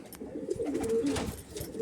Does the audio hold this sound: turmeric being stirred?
no